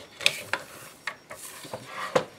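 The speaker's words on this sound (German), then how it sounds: "ich schneide jetzt einfach mal ein schmaleres Stück ab" Scissors snip through a strip of paper being trimmed narrower for a punched wavy Halloween lollipop tag, with about seven short crisp cuts in an uneven rhythm, close and fairly quiet.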